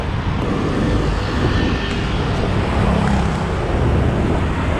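Weekday motorcycle traffic packs a city bike lane near the Pasig River, producing a loud, steady roar of engines and road noise that rolls on without a break and without voices.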